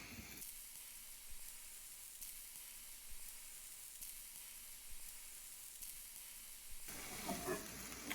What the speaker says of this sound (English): I'm gonna drop the sauerkraut in there.